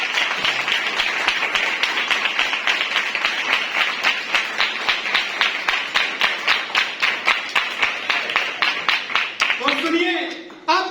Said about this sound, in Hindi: क्या आप उसके नाम के लिए जोरदार तालियां नहीं बजा सकते?